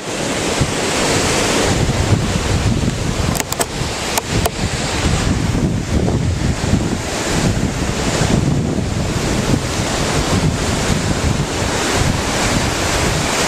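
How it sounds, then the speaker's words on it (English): Ocean surf rolls and crashes continuously on a Michigan beachfront while wind buffets the microphone, a dense, loud roar with no voices. "The ocean's kind of relaxing."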